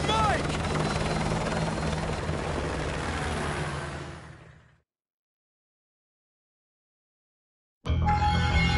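A military helicopter in the Modern Warfare 2 Remastered video game roars with loud, steady rotor wash, fades and cuts to silence for a few seconds, then returns abruptly at full volume.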